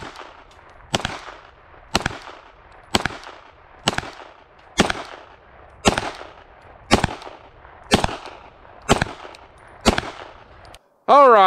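Ten sharp gunshots from a Zulisy Otter ring out one by one at an even pace, about a second apart, aimed at a USPSA target 25 yards downrange. Each is loud and close with a short ringing tail, and a brief loud burst follows.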